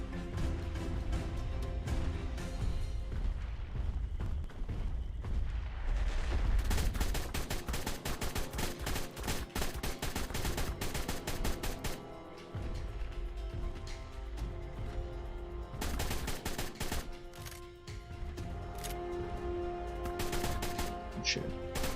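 Gunfire in the survival game ARK during an attempt to tame a Brachi: dense bursts of game shots over a busy, loud in-game soundscape with music, running almost continuously with brief lulls.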